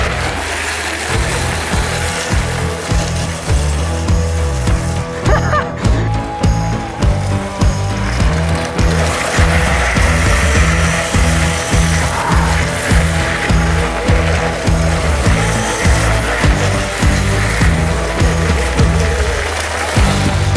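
An electric go-kart runs in reverse with a steady loud motor whine and rhythmic rattling and clicking from the drivetrain throughout, with no one speaking.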